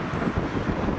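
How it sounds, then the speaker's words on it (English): Steady wind buffeting the microphone on a narrow town street in cold, wet weather, a continuous low rumble with gusty swells and no other clear sounds. "it's quite windy and it's quite wet"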